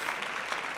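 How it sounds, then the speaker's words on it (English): Brief burst of applause for two podcast co-hosts on a live show, a steady wash of clapping at moderate level with no voices over it. "Let's give a round of applause to Doobie and Jerry"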